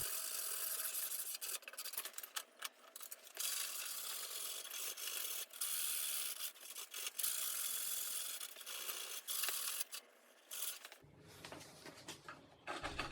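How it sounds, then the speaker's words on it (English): Wood chisel scraping dried glue off a cutting board, close and quiet, in repeated short rasping strokes broken by brief pauses, with no talking. "what I'm using here is a wood chisel, and what this is doing is just popping off all of the extra glue we have on there"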